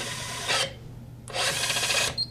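A Kolver electric screwdriver driving screws in two loud, close bursts of high, steady whirring, each about half a second to a second long, separated by a short pause, with no talking.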